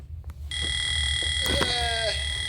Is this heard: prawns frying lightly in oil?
no